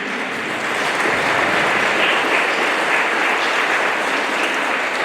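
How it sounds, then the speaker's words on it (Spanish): A crowd claps loudly for the Virgin of Guadalupe at her feast day in San Juan Mixtepec, Oaxaca, a sustained broad rush of many hands that swells after a moment and holds steady throughout. "Un aplauso fuerte a la Virgen."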